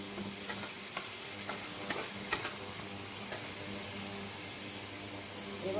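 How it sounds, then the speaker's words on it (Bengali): Spice paste sautéing in oil in a pan while being stirred gives a steady, close sizzle, with light scraping clicks and taps from the stirring spoon repeating throughout. "এবার মশলাটাকে কষিয়ে নিই"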